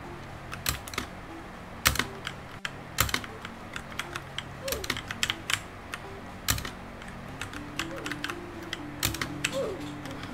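Rapid clicking of computer keyboard keys during a Roblox Tower of Hell session, uneven bursts of taps with a few louder key strikes, close and fairly clear.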